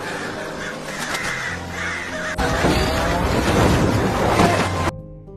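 Crows cawing in a Korean monster film scene, a dense flock of harsh overlapping caws over a rumbling, chaotic soundtrack that swells midway and then stops abruptly.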